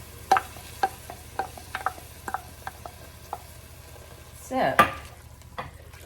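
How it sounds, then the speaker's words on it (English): A spoon stirs milk into a vegetarian bolognese sauce cooking on medium heat, with scattered light scrapes and clinks against the pan, one louder swirl near the end, and a brief spoken word. "I'm still on medium heat. I'm just going to stir this in."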